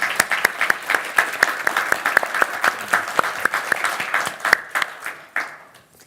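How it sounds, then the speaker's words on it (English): An audience at an AI research conference claps for a panel. The applause is fairly close and fairly dense, with distinct individual claps that fade out over a few seconds. "let's give a round of applause to the panel"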